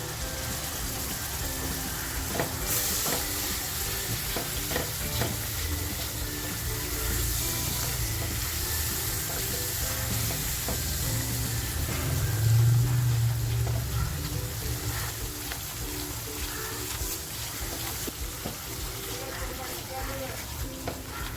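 Tomato puree frying in oil with masala, a steady close hiss and bubbling sizzle running throughout with occasional stirring scrapes, while a voice talks over it.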